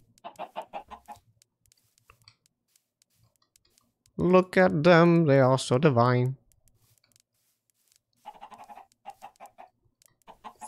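Chickens in the Minecraft video game cluck in small clusters near the start and end, while a voice sings a loud melodic line in the middle.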